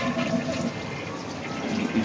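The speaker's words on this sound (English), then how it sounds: "We'll flush it to make sure there's no leaks coming through the side." A newly installed toilet flushes with a steady, close rush of water that runs continuously without a break.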